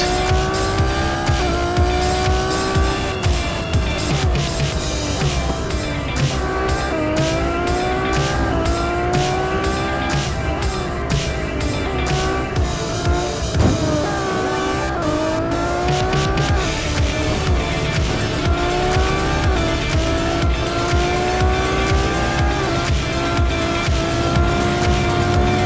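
A Ferrari 812 Superfast races in Real Racing 3, its engine loudly revving up and down through gear changes with repeated tire squeals and skids under braking, continuous and close, without talk.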